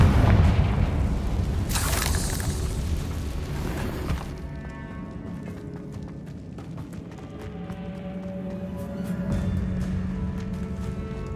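A heavy, booming blast from the Confringo fire spell in Hogwarts Legacy, a deep explosion with crumbling debris that settles into a rumbling tail under the game's music.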